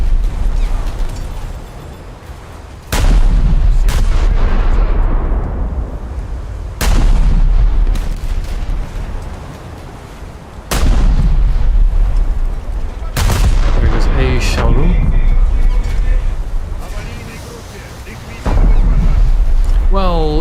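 Heavy naval guns from a warship boom in a video game, four loud blasts spaced about four seconds apart, each followed by a long rumbling decay, with game sound continuing between the shots.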